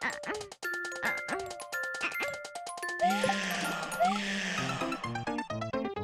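Mario Maker 2 video game sound effects, a series of bright chiming ding tones and jingling notes in quick succession, with a voice talking and exclaiming over them.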